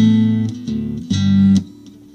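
Larrivee acoustic guitar played clean with no effects pedal, a few plucked notes and short chord strums with clear harmonic ring over about two seconds, close and alone.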